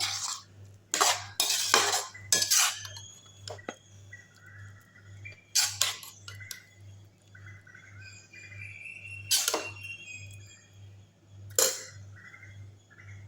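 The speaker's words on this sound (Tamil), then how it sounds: "இப்போ வந்து ஒரு பிளேட்டில் பரிமாறிடலாம்" Clinks and scrapes of a serving utensil against a pot and plate as pea masala sundal is dished out, in a few separate bursts with quiet gaps and a steady low hum underneath.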